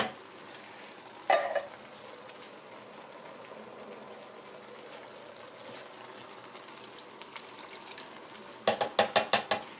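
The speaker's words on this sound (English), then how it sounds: "We're going to take both cans, we're going to empty them into the chili pot." Canned fire-roasted diced tomatoes are tipped into a chili pot: a sharp metallic clank, then soft wet plops, and finally a quick series of thumps as the cans are knocked empty, all without speech.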